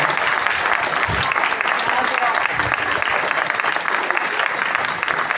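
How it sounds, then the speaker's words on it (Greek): Warm audience applause at a live event for Giannis Kasotakis, continuous dense clapping from a large crowd at a steady loud level with voices mixed in. "θέλω ένα θερμό χειροκρότημα για τη χαρισματική του παρουσία"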